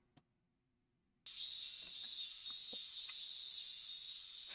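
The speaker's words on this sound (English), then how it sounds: "Cicada noises." Loud, steady high-pitched droning of cicadas, alone and constant, starting abruptly after about a second of near silence.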